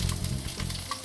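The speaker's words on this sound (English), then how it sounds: "now I'm adding my cashew and fry it just for a few seconds and then remove from oil" Cashews fry in hot oil in a pan, a dense, close crackling sizzle with a brief stir, heard alone over about a second.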